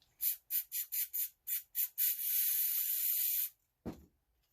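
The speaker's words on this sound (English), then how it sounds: "I got some mass airflow sensor cleaner. Just gonna spray it on there, wipe it off" Several short hissing bursts of mass airflow sensor cleaner sprayed on a Jeep Cherokee XJ idle air control valve in quick succession, then one long sustained spray, followed by a brief soft knock.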